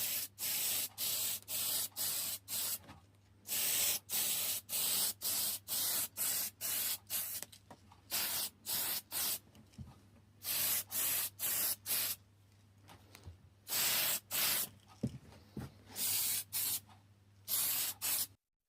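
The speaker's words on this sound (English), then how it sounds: "let's get into the spray booth, the shed, and spray some of this on." Aerosol spray paint can applying a base coat to a WPL C24-1 model truck cab and bed in a shed, with dozens of short, loud hissing bursts in a steady on-off rhythm and brief pauses between them.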